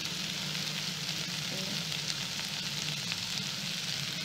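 Food frying and sizzling steadily in a pan, a continuous close hiss with no breaks, with no talking.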